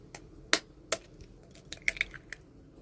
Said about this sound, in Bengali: প্রথমে আমি ডিম ফাটিয়ে নিচ্ছি